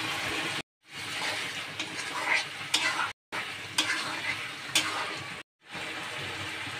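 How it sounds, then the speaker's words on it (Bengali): Mutton fat and green chillies sizzle and fry in a pan while being stirred, giving steady frying hiss with scraping strokes, cut into short segments by brief gaps. "এখন চর্বি দিয়েও আমি ভালো করে কষিয়ে নেব"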